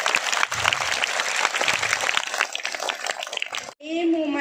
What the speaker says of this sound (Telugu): ఒకసారి మన గాయత్రి విద్యానికేతన్ తరఫున మనస్ఫూర్తిగా వాళ్ళకి క్లాప్స్ గివ్